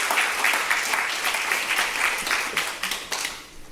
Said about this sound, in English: Clap as she comes to the stage